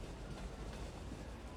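A tram running in the city-building game Cities: Skylines, a steady rumbling rail roll with faint clickety-clack, continuous and moderately close, with no talk.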